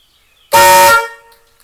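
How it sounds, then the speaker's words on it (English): A 1972 Camaro's paired high and low horns blare once for about half a second, two tones sounding together in a loud, brassy chord, then cutting off. "What I'm used to is horns that have a high and a low note."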